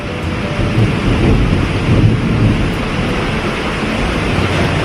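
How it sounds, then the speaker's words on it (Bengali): Heavy rain pours down in a dense, loud, continuous roar, with low thunder rumbling beneath it at a mountain saddle, and no one speaks. "বৃষ্টি আর বৃষ্টি, প্রচুর বৃষ্টি হচ্ছে এখানে"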